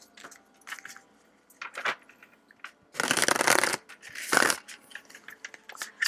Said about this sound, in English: this is a new deck, so it's a little bit difficult to shuffle.